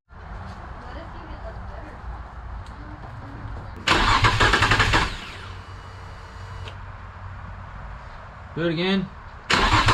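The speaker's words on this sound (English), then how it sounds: "I'm going to turn the ignition on, like, you know, turn the car over" A Nissan 350Z engine cranks in a loud burst, sputters without catching, then cranks again briefly during a spark check; someone speaks between attempts.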